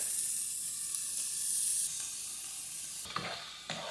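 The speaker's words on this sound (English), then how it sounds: "we're just going to stir this all in until the meat gets brown" A pound of ground beef browns over medium heat in a pot, with a bright, steady sizzle up close and a few soft stirring knocks near the end.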